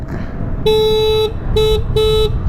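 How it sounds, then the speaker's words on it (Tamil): Three electronic horn beeps from a 2024 Ola S1 Pro electric scooter over a background hum: a long tone, then two shorter ones, bright and clearly pitched, close by. "என்ன ஹார்ன்றா, அது ரொம்ப அழகாக இருக்குது ஹார்னு சவுண்டு"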